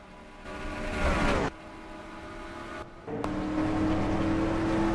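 Race car engine in the NASCAR Racing 2003 video game at Darlington Speedway, a steady droning whine that drops out briefly and returns, running loud and continuous throughout.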